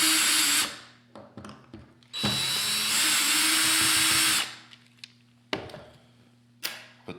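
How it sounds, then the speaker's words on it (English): A power screwdriver spins out the two screws on a Dupray Neat steam cleaner handle in two long whirring bursts, followed by brief clicks and short taps of handling at close range. "You'll start by removing those 2 screws."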